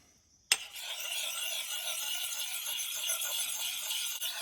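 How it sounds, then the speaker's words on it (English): A convex edge on a survival tool is sharpened with a sudden start, then one steady close rasping stroke that scrapes on evenly for several seconds and ends with a slight catch. "And I'll sharpen equal amounts on both sides."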